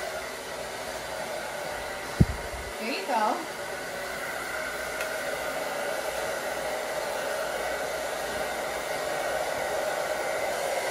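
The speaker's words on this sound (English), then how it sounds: "the blow dryer needs to be coming from below the brush" A steady broadband blowing hiss of a hair dryer held close, aimed up from below a hair brush, runs throughout, with a brief click and a few spoken words early on.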